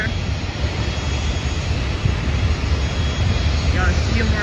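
A small Bahamasair propeller plane departing Fort Lauderdale airport gives a steady, loud broadband engine roar that holds without a break, with no clear propeller beat standing out.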